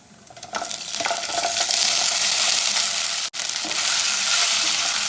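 Mani kozhukattai dumplings stirred and tossed in hot oil with a mustard tempering: a steady, loud sizzle with scraping stirs throughout, briefly cut off once near the end before resuming.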